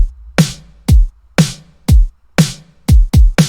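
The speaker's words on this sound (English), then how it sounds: "I have this kick right here, along with this snare, and I put them into a pattern like this." A punchy indie pop rock drum pattern programmed in FL Studio 21, alternating deep kicks and sharp snare hits in a steady, syncopated rhythm, loud and dry with no other sounds.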